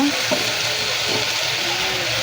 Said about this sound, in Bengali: এই মশলাগুলো আমি এখন দিয়ে দিব তেলের মধ্যে। মশলাগুলো দিয়ে দিলাম, মশলাগুলো দিয়ে এখন একটু নেড়ে চেড়ে নেব